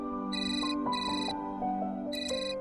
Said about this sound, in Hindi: अरे उठाओ कोई फोन।